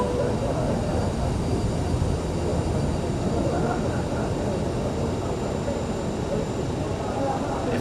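An airliner takes off from runway 03 left at Johannesburg in Microsoft Flight Simulator 2020, its engines making a deep, continuous rumble that stays loud and even throughout.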